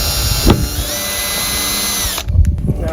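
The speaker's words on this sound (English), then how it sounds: "we can prepare the spit by drilling holes through there in the right places" Power drill boring holes through a steel rotisserie spit, a loud steady whine for about two seconds that cuts off, followed by a few knocks and handling thumps.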